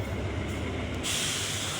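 A locomotive on a Thai railway reverses to take on water, producing a steady, dense rumble of rail noise with a hissing, brighter wash of air or spray in the second half.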